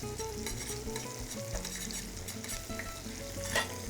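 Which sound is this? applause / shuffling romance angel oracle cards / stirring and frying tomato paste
stirring and frying tomato paste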